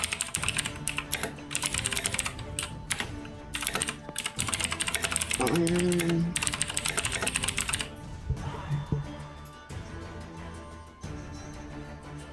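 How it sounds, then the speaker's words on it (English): Loud, rapid typing on a computer keyboard, dense clicking keystrokes nearly continuous and close to the mic, with a brief pause and lighter tapping near the end. "I'm just saying we can all hear you typing very loudly as a stream."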